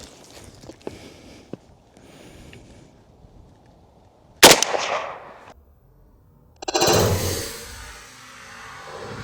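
A 7.62x39 rifle shot from a Century Arms VSKA fired outdoors at an aluminum cube: one sharp, loud crack with a short tail, then a second loud burst of noise a couple of seconds later, after quieter handling and footsteps.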